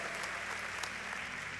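A congregation at a family church service claps in a steady, fairly faint round of applause with no voices over it.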